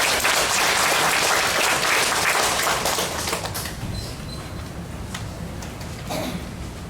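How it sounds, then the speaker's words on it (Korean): Welcoming applause from an audience at a church peace gathering, dense clapping that starts loud and tapers off gradually over several seconds. "우리 환영의 박수로 단에 모시겠습니다."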